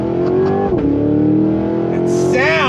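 Supercharged 2023 Cadillac Escalade-V engine revs hard and loud on throttle, a deep sustained roar with a drop and recovery partway through, rising near the end.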